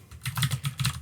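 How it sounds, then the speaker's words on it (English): Rapid typing on a computer keyboard with the microphone sitting right in front of it, a close, busy run of crisp key clicks with no talk. "I've got my microphone in front of my keyboard this time, which is giving me some issues with typing"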